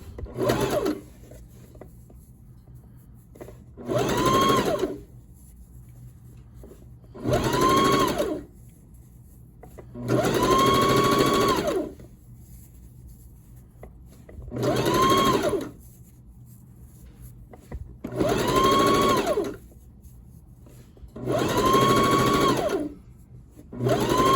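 Sewing machine top stitching seams on a fabric pleat piece: eight separate runs of steady motor whirring and needle chatter, each lasting one to two seconds, with quiet pauses between them and no talk.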